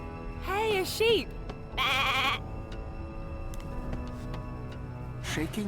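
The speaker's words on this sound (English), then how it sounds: "Hey, a sheep!" Sheep bleating in the video game Divinity: Original Sin 2, with two wavering bleats close together early on, then a third longer bleat, over a steady low game ambience.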